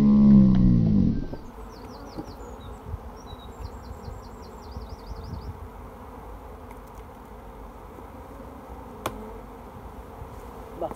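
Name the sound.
bees swarming in an open beehive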